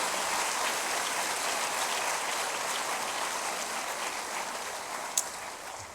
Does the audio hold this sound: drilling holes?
no